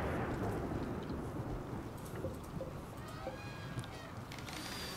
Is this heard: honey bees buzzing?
no